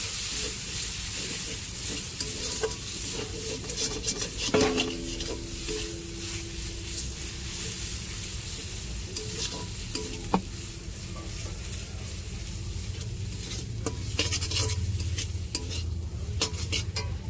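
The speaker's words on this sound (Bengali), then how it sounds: "আর দিয়ে দিচ্ছি হলুদ গুঁড়ো। এবার ভালো করে মশলাটাকে কষিয়ে নেব।" Spice paste with turmeric frying in a pan for a tengra fish curry, a continuous loud sizzle with repeated scraping stirs and occasional clinks of the spoon throughout.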